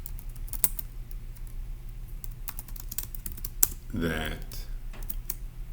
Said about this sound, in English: So I'm going to type it in as saying we're going to deduce